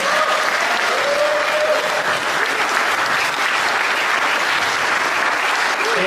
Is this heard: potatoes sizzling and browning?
no